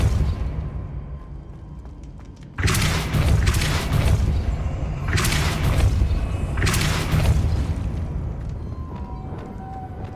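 Depulso spell cast in Hogwarts Legacy during a dungeon run: a quiet stretch, then a heavy booming blast with a sustained rumbling wash, followed by further loud surging bursts of force.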